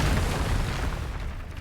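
A Bombarda spell explodes in the Hogwarts Legacy video game as a deep, loud boom that fills the moment and rumbles on steadily with a heavy low roar before easing slightly, with no voices.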